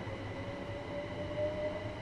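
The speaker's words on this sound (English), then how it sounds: "Many trains here." Trains rumble steadily through a busy station in the Train Sim World 2 game, on the Gatwick Express Brighton to London Victoria route with Class 387 units, a continuous low hum with a faint high tone and no talk.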